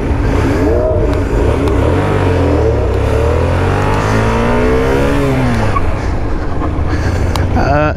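A car on a practice course accelerates to about 20 mph and then brakes toward a stop, its engine pitch climbing and then dropping, loud and close, with a brief squeal near the end.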